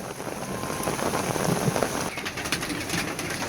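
Steady rain patters over a chicken run, a dense hiss of drops with faint bird sounds mixed in, and no talking.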